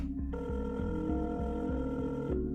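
A telephone rings on the line after a number is dialed, a steady sustained ringing tone over a low rhythmic pulsing background, close and fairly loud with no talk.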